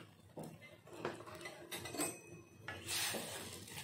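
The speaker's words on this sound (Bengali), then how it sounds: "হালকা করে একটু নেড়ে দেবো" Pork and fat soup being gently stirred in a pot in a village kitchen, with a few scraping clinks of the utensil against the metal and a brighter clatter near the end, fairly quiet with no talk.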